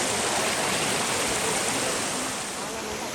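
Waterfall near Nirmal in a forest setting, a steady, loud broadband roar of falling water filling the whole clip without pause, with no voices over it.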